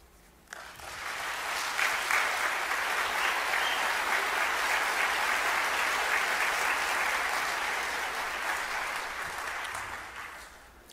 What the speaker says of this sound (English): Let's go ahead and give them one more round of applause here.